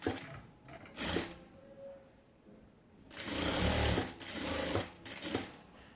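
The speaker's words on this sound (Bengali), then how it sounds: "তারপরে হচ্ছে আমি সেলাইটা করে নেব" A sewing machine stitches a ribbon onto a handmade baby frock, its motor whirring in several separate runs of varying length with quiet pauses between them, close and fairly loud.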